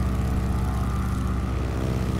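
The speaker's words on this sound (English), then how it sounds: "Is that the sound we get when another plane comes nearby?" A propeller airplane engine drones steadily and loudly at close range in Microsoft Flight Simulator, a continuous low rumble without pause over the whole stretch.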